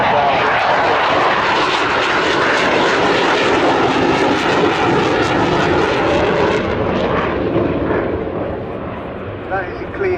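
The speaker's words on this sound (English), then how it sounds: "the successor to the Sea Venom, this one, the Sea Vixen" A de Havilland Sea Vixen, the twin-engine naval jet that succeeded the Sea Venom, roars past at an air display, a loud, sustained, close jet rumble that swells and then eases as the aircraft moves away.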